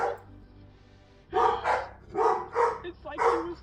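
After a short quiet spell, a pack of agitated dogs breaks into loud, close barking, with several quick bursts following one another and a few higher yips among them.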